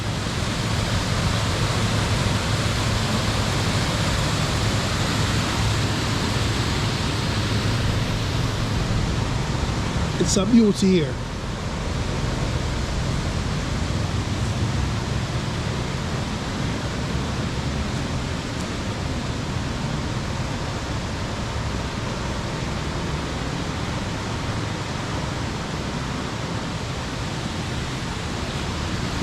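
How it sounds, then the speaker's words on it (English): A loud river stream rushing down in Manchester, Jamaica, a dense, steady roar of water filling the whole scene, with a brief nearby voice remarking over it. "Yeah man, beautiful stream coming down."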